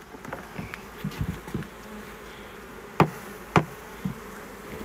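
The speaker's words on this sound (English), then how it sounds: "I do have bees hitting me on the hand" Honeybees buzzing around an open hive during an inspection, a close, steady drone punctuated by a few sharp knocks and clicks of wooden frames.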